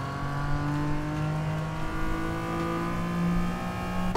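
TVR car engine in a racing video game, a steady droning whine with slowly rising tones as it accelerates, continuous and fairly loud with no talk.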